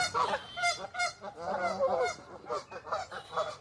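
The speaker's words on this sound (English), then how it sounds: "So if you hear the geese in the background, they're really pumping it out." Geese honking repeatedly in the background outdoors, a steady chorus of overlapping calls that continues throughout the clip.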